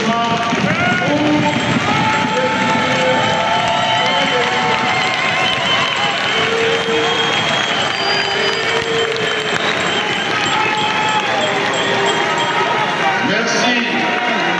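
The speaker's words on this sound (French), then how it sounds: "un standing ovation des applaudissements" Congress members, senators and deputies give a standing ovation during a state of the nation address, a loud sustained roar of applause and crowd noise with voices mixed in, continuous for about fifteen seconds.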